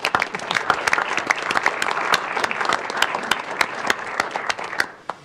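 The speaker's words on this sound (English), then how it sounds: "One more round of applause." Applause fills a city council meeting in Cedar Falls, a steady crowd of many hands clapping with sharp individual claps standing out, loud and continuous for the full stretch.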